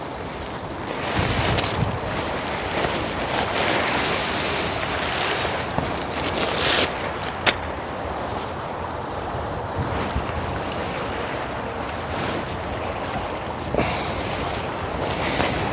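Strong, steady wind roars across a microphone during a bike ride in South Korea, a continuous broadband rush with gusty swells and occasional buffeting thumps, loud and unbroken throughout.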